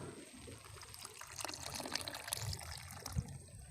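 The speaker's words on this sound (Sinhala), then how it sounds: "ඔන්න අපි දැන් මේකේ වතුර මේකට දාගන්න" Water trickles and pours into a container while a Sinhala sweet snack and energy drink are made, a soft continuous dribble close to the mic with faint clinks and light handling noise.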